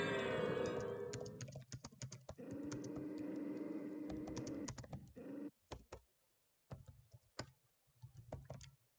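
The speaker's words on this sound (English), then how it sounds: "which I'm not doing because I'm typing" Someone types on a computer keyboard during an Everquest gaming session, a quick irregular run of close, crisp key clicks, first over a chiming game-music backdrop that fades out, then nearly alone with short pauses.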